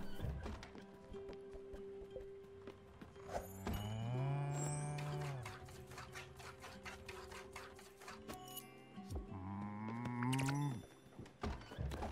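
Two drawn-out cow moos from the video game Spiritfarer, each a loud, low, wavering call with a rising and falling pitch. Light rhythmic clicking and game sounds run underneath, with no talking.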